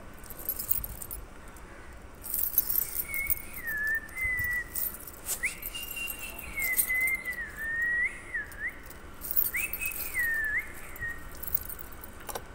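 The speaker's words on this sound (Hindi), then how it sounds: "ये चाबी भी नहीं है यार तीन चाबी लगा चुका एक चाबी और है वो लगा के देखता हूँ" A bunch of keys jangles in scattered metallic bursts while keys are tried in a lock one after another. Faint whistling, chirp-like tones and low background noise run underneath.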